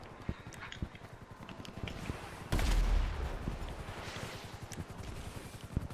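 Rapid gunfire and explosive blasts in a shooter video game, where rockets and missiles are being traded, forming a dense barrage of sharp reports with a loud boom in the middle.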